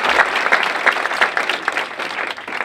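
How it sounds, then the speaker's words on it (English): Audience at a public healthcare forum in Ulster County claps steadily, a dense, moderately loud wash of hand claps sustained throughout with no talk over it. "And so a round of applause, please, for Dr. Carol Smith and Naray Vitiya"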